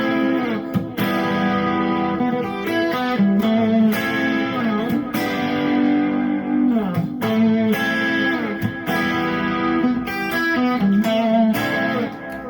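Electric guitar with heavy distortion plays a rock riff, loud sustained chords and rhythmic stabs with short breaks, continuous throughout.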